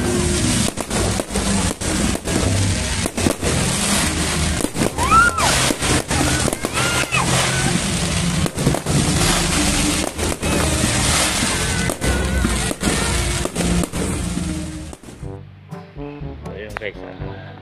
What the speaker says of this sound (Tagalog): Biyernes, Sabado, Linggo na sa gabi meron doon dito fireworks.